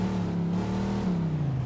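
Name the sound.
car engine revving in video game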